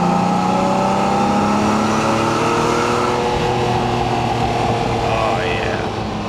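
A 1988 Ferrari Testarossa engine revs and accelerates, a loud, close, rising and falling roar that holds across the whole stretch with a sustained mechanical drone.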